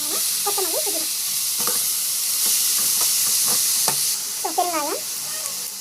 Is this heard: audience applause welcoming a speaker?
no